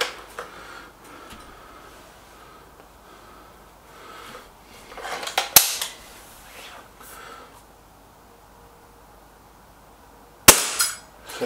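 Two suppressed shots from an SMK XS36 underlever air rifle at a gallery target, each a sharp, short crack spaced about five seconds apart, with soft breathing and handling noise between and a quiet voice.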